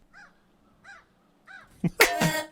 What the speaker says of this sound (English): Some crow sounds here?